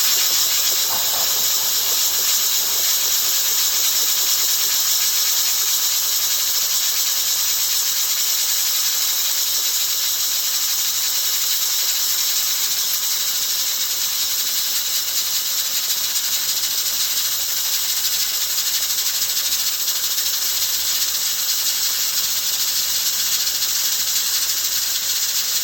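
Compressed air blows off the chain of a HolzHer Streamer 1054 edgebander in a continuous, loud, steady hiss that lasts throughout without a break.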